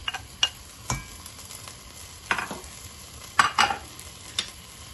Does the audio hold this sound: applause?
no